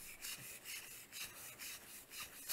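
A piece of plastic is rubbed briskly to build up a static charge, giving soft, repeated scratchy strokes at an even rhythm, quiet and close.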